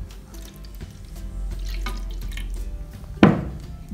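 Milk is poured into a dough mixture of flour, butter and oil for fried sweet gorditas, a brief liquid splash that rises sharply near the end over a low, quiet background.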